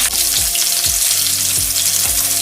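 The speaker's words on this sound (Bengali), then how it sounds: "দেখতে পাচ্ছেন মাছের গায়ে ব্রাউন কালার এসে গেছে, অর্থাৎ মাছটা খুব ভালোভাবেই ফ্রাই হয়ে যাচ্ছে।" Katla fish fries in hot oil in a pan, a loud dense sizzle and crackle that stays constant throughout, close up, with no speech.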